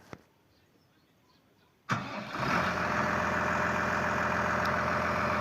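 A tractor hitched to a Veles Agro PD 2.5 disc plough in freezing, snowy weather cranks and starts after a quiet pause, then settles into a loud, steady engine rumble nearby.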